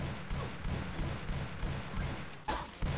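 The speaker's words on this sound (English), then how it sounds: "Same dude with the machine gun, man." Rapid machine gun fire from the Pixel Gun 3D video game rattles in a fast, dense stream of shots, with a brief break near the end before the firing resumes.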